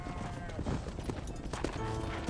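Horse hooves clip-clop at a run in the Western video game Red Dead Redemption, a steady rhythmic beat close by under game music and ambience, with a voice speaking over it.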